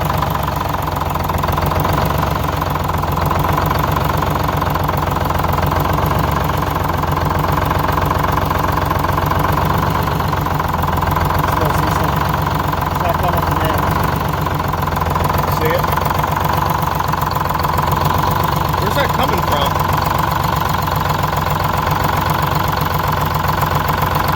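A Silversides bus engine runs steadily with a misfire, giving an uneven knocking, loud and continuous throughout.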